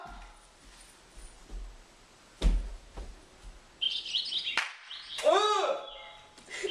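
Bird chirps and short tweeting calls from a flightless bird, a rising and falling series of bright notes in the second half, after a stretch of low rustle and a single thump.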